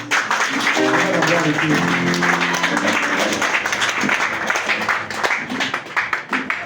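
A church congregation at a prayer service claps and shouts in acclamation of the Lord, with dense applause mixed with many raised voices, loud and sustained, thinning toward the end.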